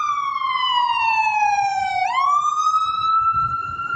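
An ambulance siren wails downtown, a loud, clear tone sweeping down and then back up in a single long cycle.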